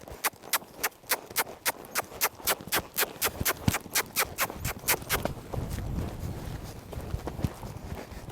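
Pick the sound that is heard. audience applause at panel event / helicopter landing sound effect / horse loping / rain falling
horse loping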